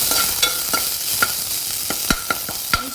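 Curry leaves are mixed into a sizzling pan for a spicy gram-flour curry, with a spoon tapping and scraping in quick irregular clinks over a steady loud hiss, close up.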